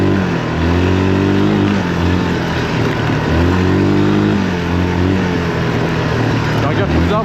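Engine of a Yamaha 350 quad on a forest ride, revving up in a few rising surges with a steady, close, loud drone between them.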